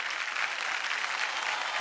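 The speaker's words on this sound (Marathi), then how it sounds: "जोरदार टाळ्या झाल्या पाहिजेत." Dense, even applause from a studio audience at a Marathi television women's celebration show, continuous and fairly loud throughout with no talk.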